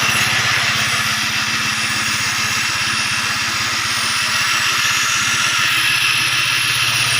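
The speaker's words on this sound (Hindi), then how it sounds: "मोटरसाइकिल स्टार्ट है।" A motorcycle engine powers a homemade jugaad rig, idling with a steady, close, continuous throb and vibration that stays level throughout.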